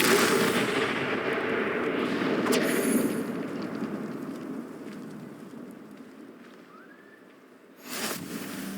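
Confringo blasting spell explosions during a troll fight in the video game Hogwarts Legacy: a loud, booming burst rolls out over the opening seconds and fades, then a second sharp blast lands near the end.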